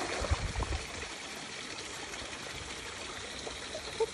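A shallow stream trickles and babbles steadily during a walk with a dog, a soft continuous water sound with a few light thumps near the start.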